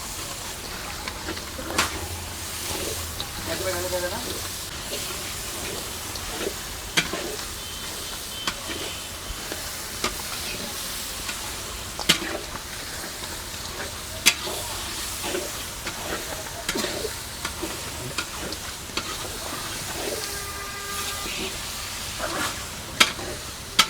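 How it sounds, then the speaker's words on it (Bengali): Steady sizzling and frying with repeated scraping strokes of a spatula stirring prawns in a pan, continuing throughout at close range. "এটা এইভাবে লাড়াচাড়া করতে হবে 20 মিনিট"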